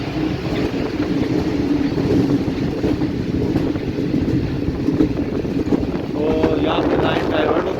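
Train rumbling through Khanewal Junction in Pakistan on the Multan to Lahore line, a loud continuous rolling roar of wheels and carriages close by, with a brief tonal horn-like sound near the end.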